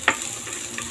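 Fish frying in oil in a pan gives off a brief crackling sizzle with a sharp pop at the start, close and fairly loud.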